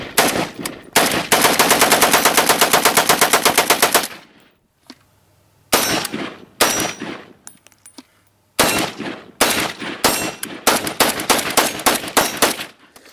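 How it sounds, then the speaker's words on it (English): An AK-47 rifle fired with a slide-fire stock lets loose a loud, rapid continuous burst lasting several seconds, then after a pause a series of quicker, irregular shots and short bursts, with no talking. "Okay, AK-47 slide fire."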